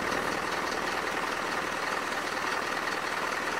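A Mercedes Vario diesel engine idles steadily and continuously at close range, a low rumbling drone with no talk over it.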